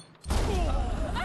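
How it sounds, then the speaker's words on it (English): A sudden explosion in the Jade Empire action role-playing game bursts in after a brief quiet and settles into a loud, sustained rumbling roar for the rest of the short moment. "I thought the explosion encompassed you guys, too."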